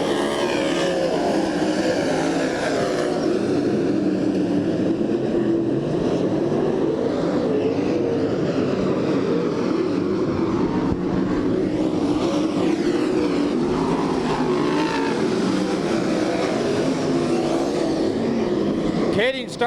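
Sprint cars roaring at full throttle on a dirt oval at Bakersfield, California, a dense, steady engine drone that holds loud and unbroken across the whole stretch, with a commentator's voice faintly over it.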